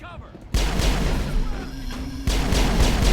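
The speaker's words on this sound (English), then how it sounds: "Shotguns are wrecking these creepers right now" Shotgun blasts in the Mass Effect video game as enemies fire on creepers: loud, booming shots with a heavy rumbling tail, one blast quickly followed by another.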